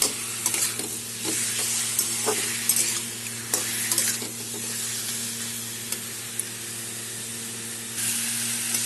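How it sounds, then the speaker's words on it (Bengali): Diced green mango sizzling and frying in a pan for a sweet-sour chutney, with steady close crackle and hiss and occasional stirring scrapes throughout, no talking. "মোটামুটি আমটা ভাজা ভাজা হয়ে গেছে।"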